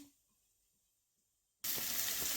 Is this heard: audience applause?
no